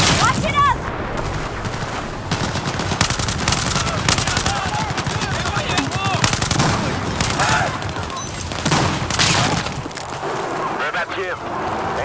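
Rapid bursts of automatic gunfire and scattered shots ring out in a Battlefield 4 match, dense and continuous over game noise, with voices talking over the action.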